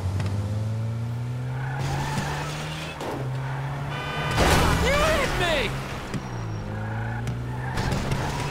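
A car in GTA V revs its engine and squeals its tires at length, with sliding, wavering screeches and a low engine drone underneath.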